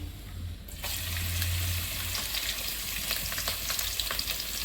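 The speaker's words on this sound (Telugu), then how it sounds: "ఫస్ట్గా నూనె కాగింది కానీ జీలకర్ర వెల్లిపాయ వేసుకుందామండి" Cumin seeds and crushed garlic hit hot oil with a sudden burst of sizzling that settles into a steady, close crackle with faint stirring, with no voices over it.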